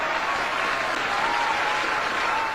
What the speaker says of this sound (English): let's pause and applaud them for a job well done